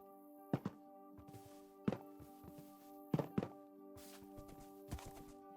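A horse wearing horse armor trots in Minecraft: a few soft, hollow hoof thunks, in separate clusters, sit over a steady, moderately loud background of sustained musical tones.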